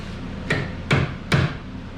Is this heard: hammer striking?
yes